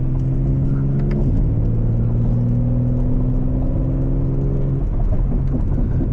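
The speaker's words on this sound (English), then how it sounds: "you can hear that really nice, smooth inline 6 BMW sound" A 2025 BMW G80 M3 inline-six running a straight-pipe exhaust with valve control drones loud and steady from close range, its pitch shifting slightly as revs change and then easing off near the end.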